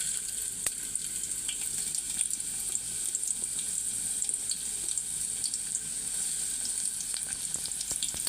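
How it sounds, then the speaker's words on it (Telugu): Onions frying in hot oil in a kadai for a Godavari-style gongura prawn curry, a continuous bright sizzling hiss dotted with small crackles and pops, close and steady, with no voices. "నూనె వేడెక్కింది. అందులో మనం ఆనియన్స్ వేసుకుందాం."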